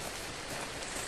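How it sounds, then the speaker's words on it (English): Steady rain falling in a survival game, a dense even hiss filling the whole stretch with no pauses and no voices over it. "Oh, good, it's raining."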